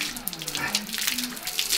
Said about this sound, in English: I think I'll just hose myself down.